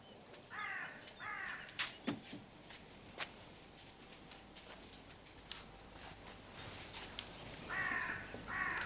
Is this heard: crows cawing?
yes